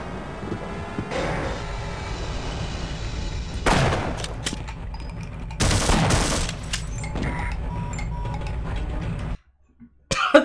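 Shotgun blasts in the first-person shooter Half-Life, three loud separate booms spaced a couple of seconds apart over a low game backdrop, ending with a brief drop to near silence and a final clatter.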